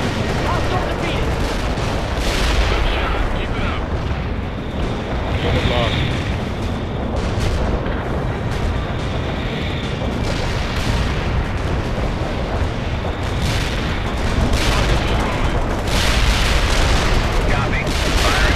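Mortar strike explosions in the battlefield strategy game World in Conflict, a dense, continuous roar of booms and gunfire-like blasts that stays loud and unbroken throughout, with voices in the mix.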